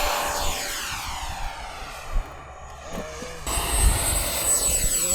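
A radio-controlled model A-10 Warthog jet flies over a field at sunset, its engine whine rising and falling as it passes at moderate distance, with a brief low thump midway.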